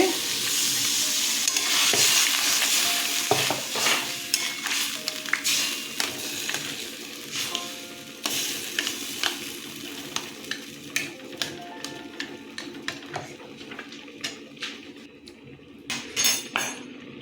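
Olive chutney with dry chilli powder bubbles and sizzles in a pan after water is poured in, with steady cooking hiss and repeated clinks and scrapes of a stirring spoon against the pan throughout.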